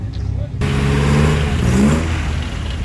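Historic cars on a road rally from Reims to Monaco accelerate past, engines revving loudly and rising in pitch over about two seconds, with crowd noise and voices in the background.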